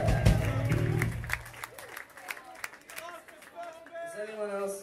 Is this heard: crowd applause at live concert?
yes